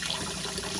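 Hot water from a tap fed by an APUS water heater runs in a steady, close, hissing stream throughout the short moment.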